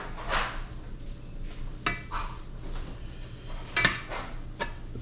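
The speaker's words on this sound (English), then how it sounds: "Beat my eggs" Eggs beaten in a bowl for a keto crustless pizza with ground meat, a few quick clinking strokes and scraping against the bowl in a quiet kitchen, with brief sharp utensil taps.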